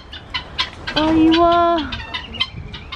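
Bengala chickens on a farm clucking, with one bird giving a drawn-out, loud call in the middle among short scattered clucks nearby; a person speaks briefly.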